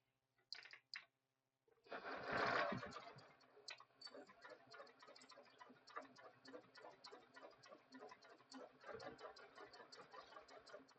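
A sewing machine stitching fabric for an 80s-style bowler bag, with a brief start and stop, then a steady rapid mechanical ticking as the needle runs continuously, close and clear.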